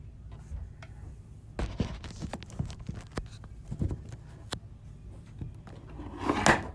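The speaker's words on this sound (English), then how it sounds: "Yeah, somebody was knocking." Several sharp knocks at an indoor door during a spooky photo-reaction session, spaced irregularly, some louder and closer than others, followed by a brief rustling burst near the end.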